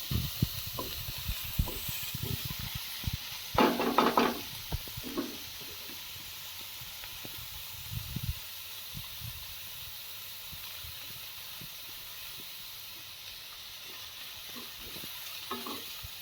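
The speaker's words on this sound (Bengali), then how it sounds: "আবার এটাকে ভালো করে একটু আঁচটা কম করে একটু ভালো করে ভাজতে হবে।" Maggi noodles with chopped carrots fry in a pan over low heat, giving a soft, continuous sizzle and hiss, broken early on by several clattering stirs, then settling into a quieter steady sizzle.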